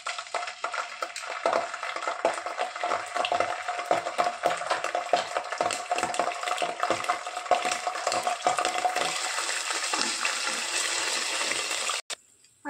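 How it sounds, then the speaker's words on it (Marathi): Ginger garlic paste frying in ghee in a pot, a steady close sizzle with scraping stirs running throughout, cutting off briefly near the end. "आलं लसूण पेस्ट फ्राय झाली आहे."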